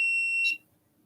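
A REM pod ghost-hunting device sounds a steady high-pitched electronic alarm tone close by for about half a second, then cuts off into quiet room hiss.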